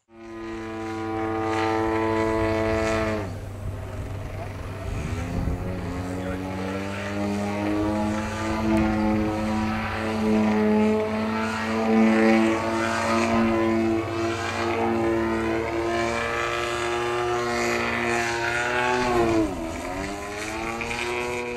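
A HobbyKing RC model airplane's small engine drones loudly and steadily through a flat spin, its pitch wavering and rising and falling as the plane turns and the throttle shifts.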